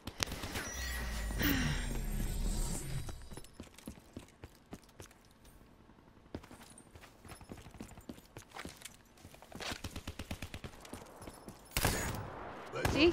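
Shotgun fire in a first-person shooter free-for-all match comes as scattered sharp blasts and clattering bursts across a noisy stretch, with a loud boom near the start and another near the end, and no talk.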